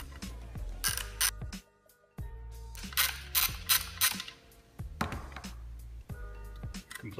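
An 18mm socket ratchet breaks loose the foot nut on a bicycle suspension fork, heard close up as repeated rapid clicking strokes in several bursts separated by short pauses.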